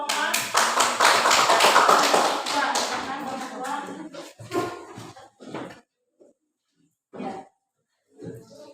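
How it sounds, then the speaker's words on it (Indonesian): Classroom students clap for a group of classmates, a lively burst of close, crisp clapping over the first few seconds that fades into scattered taps and murmuring voices. "tepuk tangan untuk kelompok 4"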